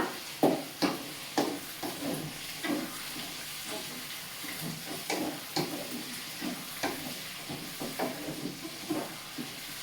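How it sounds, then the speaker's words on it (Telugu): Mint pickle frying in oil in a pan for a preserved Telugu-style pudina pachadi, a continuous sizzle with repeated scraping stirs at a steady rhythm, close and moderately loud, no talking. "కనీసం ఒక 10 minutes అన్నా ఫ్రై చేసుకోవాలండి, నిల్వ పచ్చడి కదా"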